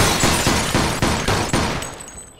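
Rapid gunfire from Mafia II, five sharp shots in an even rhythm over about two seconds, loud and close, each crack followed by a short decay before the sound fades out.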